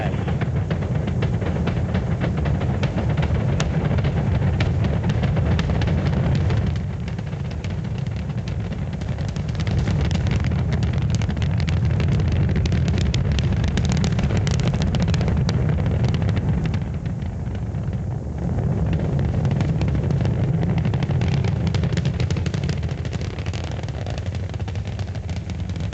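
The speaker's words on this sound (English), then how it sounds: "All engines running. Commit. Liftoff." Apollo 9 rocket liftoff with all engines running, a continuous heavy roar that fills the whole stretch at a steady, loud level with slight dips, broad and rumbling without a break.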